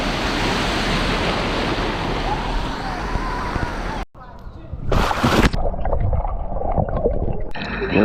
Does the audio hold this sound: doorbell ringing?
no